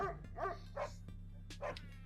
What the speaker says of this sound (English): He sounds like 2 dogs.